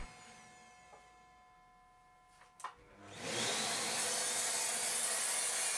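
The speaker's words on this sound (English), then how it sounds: "So I decided to cut down some bits of old oak that are actually quite a good colour match." Sawing through old oak offcuts begins after a few faint knocks, building into a loud, steady rasping stroke that fills the last few seconds without pause.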